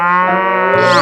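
A cartoon cow in a 3D animal slide game gives a single long, loud, tonal moo that rises in pitch at the end, with no voices over it.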